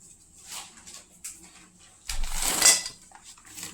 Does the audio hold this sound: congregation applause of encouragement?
no